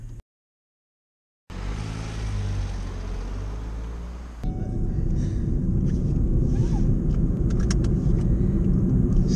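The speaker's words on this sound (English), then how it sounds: "So this Fiesta is a delight to drive." Ford Fiesta mk7 with an EcoBoost engine and five-speed gearbox driving along, a steady low engine and road rumble that becomes louder and fuller partway through, with some wind noise at the microphone.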